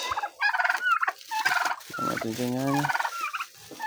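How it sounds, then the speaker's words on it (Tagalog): Farm poultry calling close by, a run of rapid warbling, gobbling cries that rise and fall in short bursts, fairly loud with no talking over them. "Kaya natatakot kami na pakawalan yung mga manok dito."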